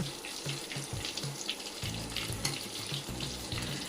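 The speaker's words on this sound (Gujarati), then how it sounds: "ઉથલાવીને બંને બાજુથી તળવાના" Vada, the battered potato fritters of Mumbai-style vada pav, frying in hot oil and being turned to cook both sides; a steady, close sizzle with scattered crackles and pops, no voices.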